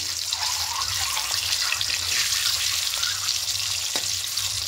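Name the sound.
egg frying in a pan with salt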